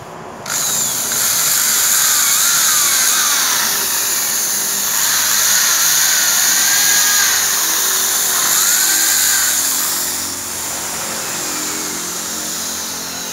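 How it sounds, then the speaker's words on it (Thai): A power drill whirs steadily at close range while drilling a door to fit a doorknob, its pitch rising and dipping as it bites into material, running almost continuously before easing off near the end. "เจาะเลยนะครับ"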